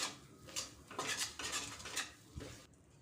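Spoon scraping and clinking in a pan while a kaju Mysore pak mixture of cashew and ghee is stirred, a series of close, moderately loud strokes in irregular rhythm.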